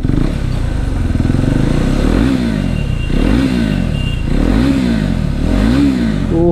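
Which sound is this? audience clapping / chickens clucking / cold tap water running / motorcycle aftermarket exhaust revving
motorcycle aftermarket exhaust revving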